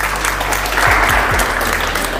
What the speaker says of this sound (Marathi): मॅमसाठी एकदा जोरदार टाळ्या